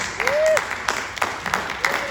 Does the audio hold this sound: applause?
yes